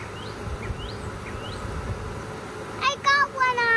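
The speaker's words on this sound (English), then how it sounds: "You didn't know you could ID a queenless hive by the sound, did you?" Honeybees hum at a hive outdoors as a steady low drone, with faint bird chirps above it, and people begin talking near the end.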